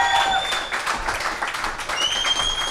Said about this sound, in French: un applaudissement pour mes deux invités de ce soir